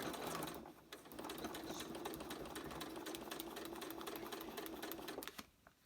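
A sewing machine stitching a paper-pieced flower runs in a steady, rapid mechanical whir for several seconds, close and continuous, then stops just before the end.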